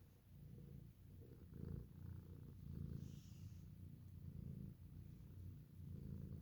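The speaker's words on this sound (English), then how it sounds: "Do you hear Mommy purring?" A mother cat purrs close to the listener, a soft, low rhythmic rumble pulsing with each breath in and out, faint and steady with no talking.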